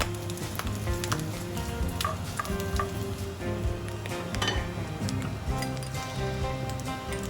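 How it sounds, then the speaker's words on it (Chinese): Shallots sizzling and frying with pork in a pot of rendered lard, a steady, dense crackle with light stirring clatter running throughout, close and alone. "这时候就可以把红葱头放进去炒一下。"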